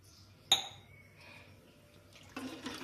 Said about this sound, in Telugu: ఇంకా కొన్ని నీళ్ళు పోసుకుందాం. కొన్ని నీళ్ళు పోస్తున్నాం.